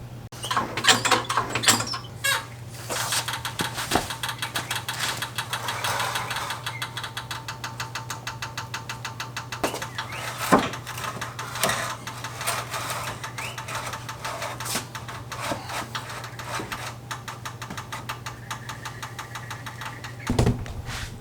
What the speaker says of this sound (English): I'm going to jack the car up real quick